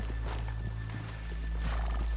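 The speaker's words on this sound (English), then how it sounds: "let's leave the horses here off the main drag" Horses in the Red Dead Redemption 2 video game neighing and whinnying with clip-clopping hooves, fairly close over a steady low in-game ambient hum.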